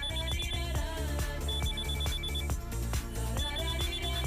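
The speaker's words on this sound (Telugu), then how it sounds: "ముందు ఫోన్ కలుపు" A phone rings during a call in a Telugu comedy scene, with a repeating electronic tone over a loud rhythmic music backing that fills the whole clip.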